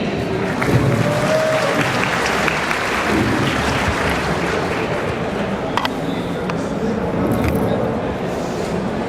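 Crowd applauds and cheers continuously for a volunteer called up on stage at a live presentation, a loud, dense patter of clapping with a few sharper claps and shouts standing out.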